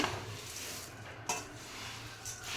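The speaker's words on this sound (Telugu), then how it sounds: "దీనికి ఒక కడాయిలో బౌల్తో బొరుగులు తీసుకొని ఇలా స్లో ఫ్లేమ్పై వేయించుకోవాలి" Puffed rice being roasted in a kadai on a slow flame gives a soft, continuous rustling hiss, with one sharp scrape of the pan partway through. No voices are heard.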